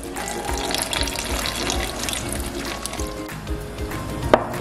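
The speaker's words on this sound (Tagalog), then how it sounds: "nailagay ko na po yung evaporated milk" A can of evaporated milk pours into a cooking pot of ginataang bilo-bilo, a steady close liquid splashing and gurgling that runs throughout with a small clink near the end.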